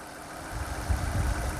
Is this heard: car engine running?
yes